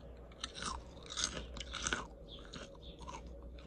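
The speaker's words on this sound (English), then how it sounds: "Nice and crunchy, but they still have some oil" Close crunching bites on a crisp fried chip, a series of sharp crackly chews in irregular rhythm, with no talking.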